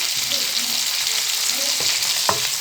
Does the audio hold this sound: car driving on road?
no